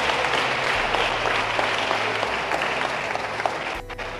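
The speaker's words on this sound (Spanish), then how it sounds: "dele un aplauso al Señor si así lo desea" A church congregation in Guatemala applauds steadily, a dense wash of clapping that holds level before dipping briefly near the end.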